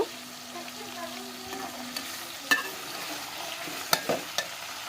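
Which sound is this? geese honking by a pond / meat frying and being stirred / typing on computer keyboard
meat frying and being stirred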